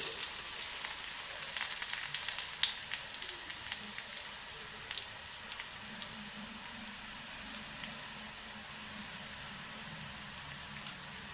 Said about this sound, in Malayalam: അപ്പം ഞാൻ കറിവേപ്പിലയും കൂടി ഇട്ട് കൊടുക്കാം കേട്ടോ നന്നായിട്ട് മുരിഞ്ഞോട്ടെ